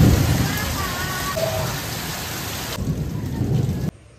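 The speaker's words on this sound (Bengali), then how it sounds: "ভীষণ বিদ্যুৎ চমকাচ্ছে আর মেঘও খুব ডাকছে। বৃষ্টিও কিন্তু ভালো হচ্ছে এখন।" A heavy thunderstorm pours rain onto surfaces close by while deep rolling thunder rumbles through the downpour, loud and continuous before cutting off abruptly.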